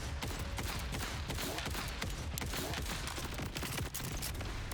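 Rapid full-auto fire from the Rowan's Charge sniper rifle in Borderlands 4, a dense, loud, continuous stream of gunshots running without a break, layered with game effects.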